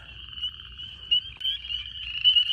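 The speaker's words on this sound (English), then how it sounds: "There's a lot of peepers calling over here." A dense chorus of spring peeper frogs calls loudly and continuously in an early spring wetland, with high piping peeps overlapping into a steady shrill wall of sound, close and strong.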